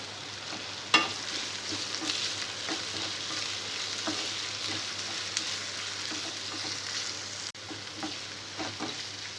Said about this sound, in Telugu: ఉల్లిపాయ ముక్కలు ఫ్రై అయిన తర్వాత ఇందులో టమాటా ముక్కలు వేసుకోవాలి.